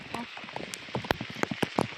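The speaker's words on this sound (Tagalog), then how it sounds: "Super malakas yung ulan" Heavy typhoon rain with no wind patters steadily on a surface in Kabayan, Benguet, with scattered sharper drops and taps, fairly faint, while a voice speaks intermittently over it.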